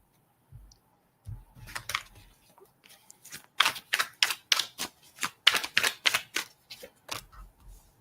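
Oracle cards are shuffled and drawn for a reading: a few soft handling taps, then a quick run of crisp, close card flicks and snaps with short gaps between them, and no talking.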